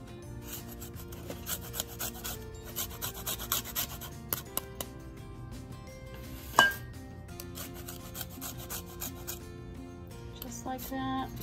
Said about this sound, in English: I'm gonna take another lime and just sprinkle some lime zest on the whipped toppings that I just did